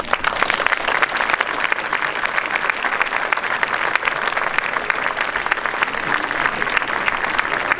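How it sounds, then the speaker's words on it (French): Steady, dense applause from a large audience at a Paris fire brigade helmet-presentation ceremony, loud and continuous throughout with no pause. "j'aimerais que vous leur adressiez des applaudissements nourris"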